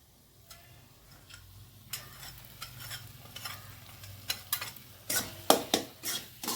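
A freshly ground paste of turmeric, coriander, cumin, ginger and green chili is stirred in a cooking pan for fish curry, with scraping, ticking strokes that start sparse and quiet and grow louder and quicker.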